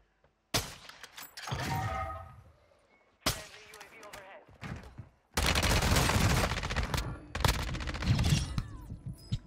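Kar98k sniper rifle fire in Warzone 2 comes as loud, sharp shots with ringing tails in three separate bursts, the last one denser and sustained with overlapping game noise.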